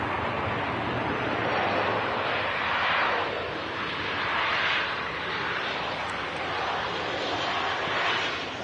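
A propeller aircraft at Manchester Airport drones in a broad, steady engine roar that swells and fades slightly as it passes, at moderate distance, with no talking.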